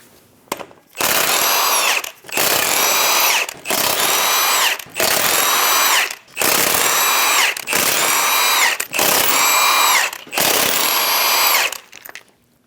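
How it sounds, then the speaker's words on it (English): A power tool with a 22mm socket whirs and rattles in eight strong, evenly spaced bursts while removing the lug nuts from a Chevrolet Express 2500 front wheel, each burst ending in a brief pause. "Using a 22mm socket, remove the 8 lug nuts."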